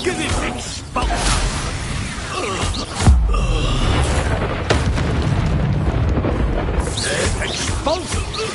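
An Expulso spell explosion in the game Hogwarts Legacy, a deep boom striking about a third of the way in amid a busy mix of whooshes and battle noise, with voices heard throughout.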